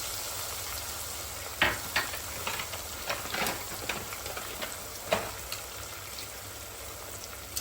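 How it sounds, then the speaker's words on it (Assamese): Spices and onion fry in hot oil for a chicken white gravy, a quiet continuous sizzle with scattered crackles and pops, plus a few sharper stirring scrapes against the pan, no voices. "মছলাটো তেলত ভালকৈ ভুনি ল'ব।"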